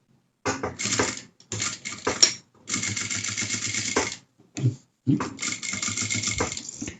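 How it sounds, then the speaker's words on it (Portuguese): A sewing machine stitches a denim slipper sewn from reused jeans, running in several short, close bursts separated by brief pauses, with a steady whirring rattle and no talking. "Eu vou costurar aqui e já mostro pra vocês"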